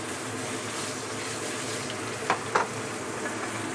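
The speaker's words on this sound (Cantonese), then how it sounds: "我哋先咧就將呢個鹹魚煎香佢。" Salted fish frying in a hot wok gives a soft, continuous sizzle with two brief sharp crackles near the end. No one speaks.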